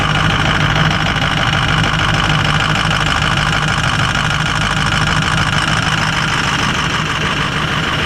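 A truck engine idles loudly and steadily up close, a constant low rumble with no other sounds.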